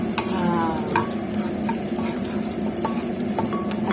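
Ginger sautés in a pan, a loud steady sizzle of frying broken by scraping stirs and light clinks of a utensil against the pan, close and continuous with no talking.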